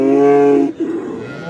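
Calf or cattle at a livestock market in Ganja, a strong sustained moo with rich harmonics lasting most of a second, then a softer, rougher follow-on call and background murmur.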